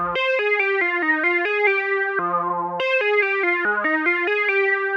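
A dry mono synth preset plays a single-voice lead line, a quick run of bright buzzy notes stepping up and down in a continuous rhythmic phrase, loud and upfront with no voices.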